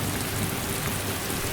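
Steady, dense rain pouring down, a continuous loud hiss filling the whole moment with no voices.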